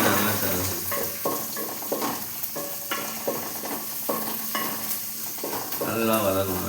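Onions sautéing in oil for murungai keerai poriyal, a steady close sizzle broken by repeated scrapes and stirring strokes of a spoon against the pan.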